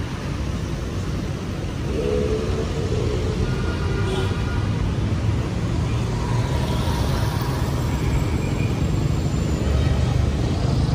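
Road traffic near Manila Bay rumbles continuously, with cars, buses and trucks passing in a steady low drone, while faint voices talk nearby.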